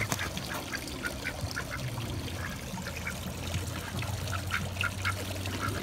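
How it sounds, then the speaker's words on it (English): Ducks resting and preening on the water along a trail, with soft intermittent quacks and light dabbling splashes over a steady outdoor background hum, fairly faint and distant. "Just chilling out in the water. Just doing what ducks do."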